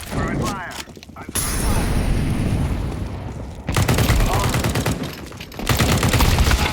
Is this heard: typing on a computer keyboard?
no